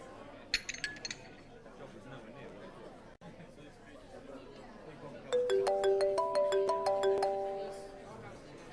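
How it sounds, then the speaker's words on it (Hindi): A melodic electronic phone ringtone plays a repeating chime pattern over quiet room background, preceded by a brief faint clink early on. "अबीर का फोन है, मैं बात कर लेती हूँ।"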